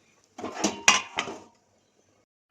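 A kadai cooking pan is lifted off and set back onto a stove, giving a few close metallic clanks and scrapes in about a second of activity, then silence.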